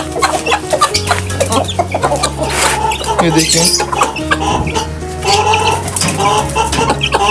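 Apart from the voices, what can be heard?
chickens clucking while eating rice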